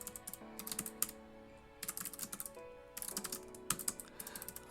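Keys clatter on a computer keyboard in quick bursts of typing separated by short pauses, crisp and close, with no talking.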